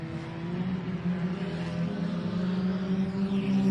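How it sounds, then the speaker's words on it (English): Sport Compact race cars on a hot lap at a dirt speedway produce a steady engine drone that rises slightly, loud and continuous, with a low humming tone and distant track ambience. "is the green flag and a wave on our hot lap session for our Sport Compacts"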